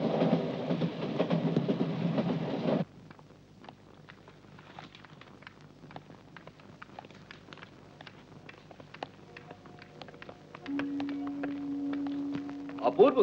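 A moving passenger train heading toward Kanpur rumbles steadily, loud at first and then dropping to a quieter interior drone with scattered light clicks and rattles, and a sustained tonal whine rising near the end.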